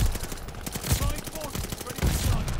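Rapid automatic gunfire in Call of Duty: Vanguard, dense bursts of close shots rattling almost continuously with brief gaps, with a voice talking over it.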